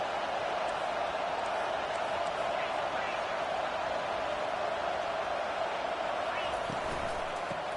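A stadium crowd at an Auburn college football game roars in a steady, dense wash of noise, continuous throughout, with a commentator's voice over it.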